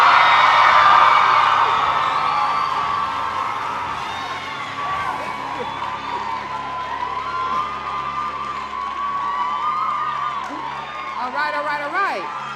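Keynote audience at a Black scholar address roaring and cheering: loud crowd shouts and whoops swell at the start, then a sustained, slowly fading din of voices with scattered clapping and a whistle near the end.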